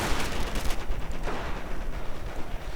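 Rapid bursts of gunfire rattle in a World War II strategy game battle as Panzer Grenadiers advance and engineers come under fire, a dense crackling volley of shots lasting a few seconds.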